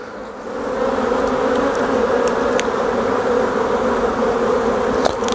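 Honey bees buzzing around an open beehive during an inspection, a dense steady drone close by with a few faint taps and clicks.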